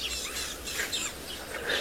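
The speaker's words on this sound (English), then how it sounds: "Might actually be a tawny flank prinia that's making that noise" A tawny-flanked prinia calling outdoors, thin high chirps repeated every fraction of a second, moderately distant over a steady background hiss, with no voices.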